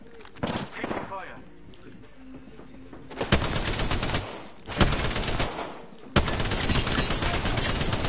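Bursts of rapid gunfire in Apex Legends, dense volleys that start abruptly and keep firing loud and close, with quieter scattered game sounds and effects between them.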